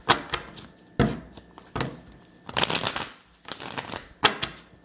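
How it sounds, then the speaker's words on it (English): A tarot deck is shuffled by hand in several quick riffling bursts separated by short pauses, the crisp card noises close and fairly quiet. "I'ma shuffle this again."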